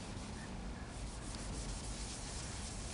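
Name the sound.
hand scuffing paint on a '69 Camaro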